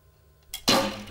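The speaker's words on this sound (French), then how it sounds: "vous tirez les flèches non empennées" An unfletched arrow is shot from a recurve bow through a paper test sheet, giving a single short whoosh followed by a sharp, loud papery tear, close and alone.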